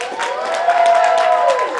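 A studio audience claps and cheers for comedian Michael Yo as he is introduced on a talk show. The applause is steady and full for the whole stretch, with a sustained tone running through it.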